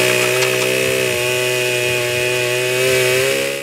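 A chainsaw from the 2003 video game Manhunt drones close and loud, a steady, high-pitched buzzing engine whine with slight wavering in pitch that holds without a break.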